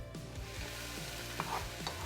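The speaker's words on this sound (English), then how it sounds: "Fry onions with a few tablespoons of oil." Steady crackling sizzle of onions, pepper and garlic frying in a few tablespoons of hot oil for shakshuka, with a few light clinks of stirring, close and continuous.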